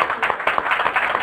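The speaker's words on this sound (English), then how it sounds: "One more round of applause" Brief burst of audience applause at a disability training event, moderately loud scattered claps running together for about a second without any talk.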